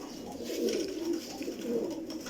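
Pigeons of several breeds coo steadily in a loft, their soft, low throaty calls overlapping in gentle waves near at hand, with no voices over them.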